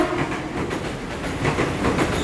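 A train rolls past close by at Tebet station in Jakarta, a steady loud rumble of wheels on rails with faint rhythmic clatter, heard without speech.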